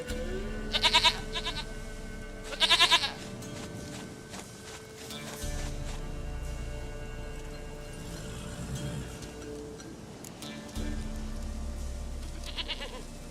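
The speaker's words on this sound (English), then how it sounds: "Goat of mine, dearest, sweetest goat." In The Witcher 3, a goat gives two short, nasal bleats close by, with faint footsteps and ambient game sound under them. A third bleat comes later, more distant.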